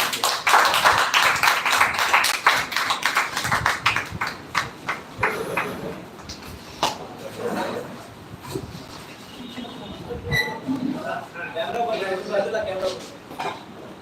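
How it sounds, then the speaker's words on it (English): An audience at a farewell class applauds for Mr Satyam, dense clapping at first that thins into scattered claps over several seconds before voices take over. "Please clap for him."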